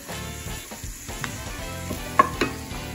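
Red kidney beans are stirred in a sizzling pan for Lebanese fasoulia with lamb, a steady frying hiss under scraping strokes and a couple of sharper utensil clinks.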